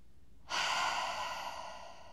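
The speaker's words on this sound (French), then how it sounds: "Tu vas pouvoir prendre tes 3 profondes respirations, peut-être tes expirations par la bouche." During a yin yoga session, a single deep breath is released through the mouth as a long, soft, close exhale that slowly fades.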